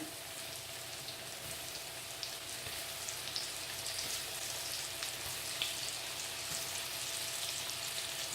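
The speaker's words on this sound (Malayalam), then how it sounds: "ഇങ്ങനെ ഏത് ഫിഷ് വേണമെങ്കിലും നമുക്ക് വറുത്തെടുക്കാം" Steady, continuous sizzle of coated fish frying in hot oil, a dense crackling hiss with faint pops and no talking.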